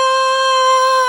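A person hums a single high note, a steady sustained tone with strong even overtones held for about a second without a break, clear and close.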